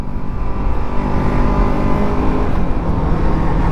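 A Kawasaki Ninja 650 motorcycle engine runs with a steady, smooth, low droning hum, close and fairly loud, holding an even tone without revving for a few seconds.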